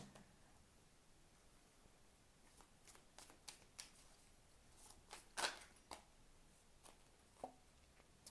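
Tarot cards, bending as they go, riffled and shuffled in quick rustling bursts, with a few sharper snaps near the end, close and fairly quiet.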